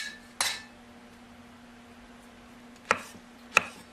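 A knife cuts through the root ends of shimeji mushrooms on a cutting board, giving three sharp, isolated chops spaced apart against a quiet kitchen background.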